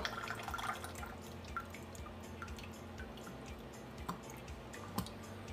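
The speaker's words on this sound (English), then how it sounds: "Sometimes you can shake out the last of the tea." Last of freshly brewed Japanese shincha shaken from a teapot, giving scattered faint drips and small liquid splashes at irregular intervals, close but quiet against low room noise.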